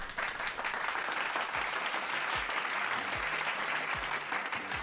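Steady applause from a studio or live-show audience on a call-in talk program, sustained for several seconds with a few low thumps beneath the clapping.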